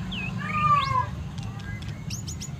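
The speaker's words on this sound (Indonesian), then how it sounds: "Mohon maaf ada suara, mungkin ada suara kucing ya" Indoors, a house cat gives a few short, fairly quiet meows, followed by faint, quick chirping calls over a low, steady background hum.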